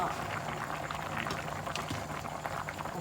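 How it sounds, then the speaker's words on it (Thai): A pot of cassia curry with grilled pork at a rolling boil, a steady bubbling and gurgling that stays close and fairly quiet throughout, with no voices over it. "ตอนนี้หม้อก็ได้เดือดแล้วนะคะ"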